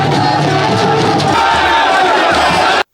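A large crowd of supporters in Kano cheers and shouts loudly and without a break as a deposed emir steps out of his palace, a dense roar of many voices.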